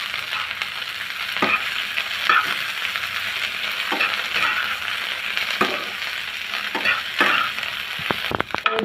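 Cauliflower stalk mash with chopped coriander leaves fries in a pan, a steady close sizzle broken by repeated scraping stirs, with no voices.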